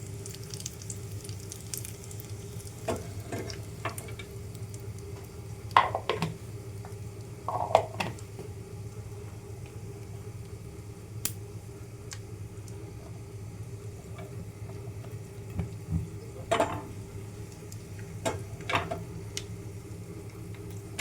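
Mustard seeds, cumin and dried red chillies sizzle quietly in a pan of oil, a soft steady fry with scattered pops and spatula clicks that stays faint throughout and has no voices over it.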